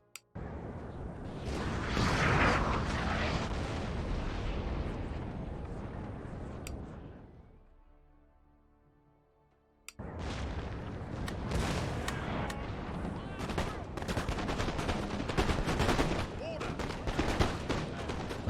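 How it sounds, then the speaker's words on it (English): Artillery canister shot roars in a Napoleonic-era battle game, a long loud crackling barrage that dies away into a brief lull before a sharp blast restarts a dense stream of firing. "the canister starts firing away"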